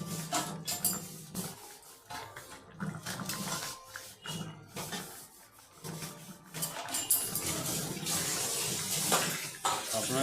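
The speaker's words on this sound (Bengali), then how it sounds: "কি সুন্দরভাবে ইঁচড় এবং আলুগুলো ফুটতে শুরু করেছে" Jackfruit and potato curry simmers in a pot on the stove, giving a steady, close bubbling and hissing boil with irregular surges of churning liquid, with no talking.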